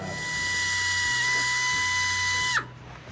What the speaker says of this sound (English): Now we gotta drill some holes on this side, so that's what we're doing now.